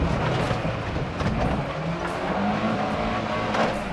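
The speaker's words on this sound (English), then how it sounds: "The all-terrain tires didn't help and the grunt from the engine just wasn't enough" A Gypsy SUV on all-terrain tires strains its engine up a steep off-road incline, a loud, continuous drone close by with rough, fluctuating revs and no speech.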